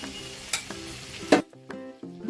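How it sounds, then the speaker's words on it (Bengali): Prawns fry in a kadai, crackling and sizzling softly while a spatula stirs them with a few scraping bumps. "এবার চিংড়ি মাছগুলো কড়াইতে দিয়ে দিলাম।"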